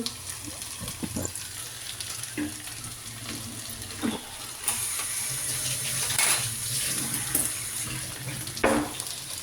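Aachi masala powder dry-roasting in a pan gives a steady low sizzle and hiss, with scattered scraping stirs and a few sharper clicks, close and continuous with no talk.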